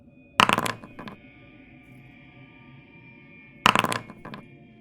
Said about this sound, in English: I'm hearing dice